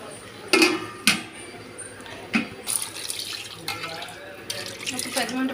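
Water splashes into a pot of chicken leg pieces boiling on the stove, with sloshing and bubbling and a few sharp knocks, while a person talks.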